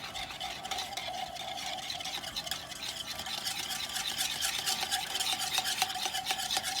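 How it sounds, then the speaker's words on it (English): Batter of molasses and other ingredients for Irish brown bread being whisked in a bowl, giving a steady, continuous scraping stir with rhythmic taps that grows slightly stronger toward the end, close and alone without talk. "now I need to whisk all that together first"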